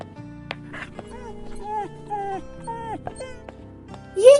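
A small dog whimpers after being kicked, a series of short high whines and yelps repeated several times up close, ending in a louder cry, mixed with music-like tones.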